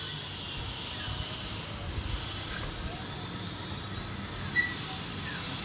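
A train rolls along the rails at night in a rural area, a steady rumbling and hissing ride noise heard from inside the carriage with faint squeals and small knocks, continuous and moderately quiet.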